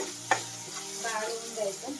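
Onion and tomato frying and being stirred in a pan for pav bhaji, a steady close sizzle with a sharp utensil knock near the start and scraping stir sounds throughout, no talking.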